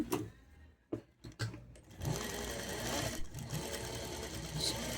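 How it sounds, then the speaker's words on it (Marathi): Sewing machine stitching piping onto a blouse, starting with a few short bursts then running steadily in a close, continuous whir. "याला मी स्टिच करून घेते"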